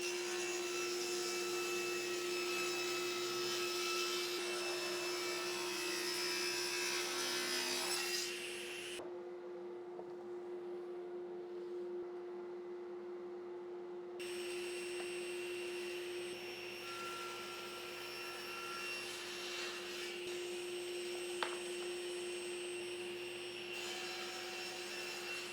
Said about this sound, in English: we can start cutting this down and get out our legs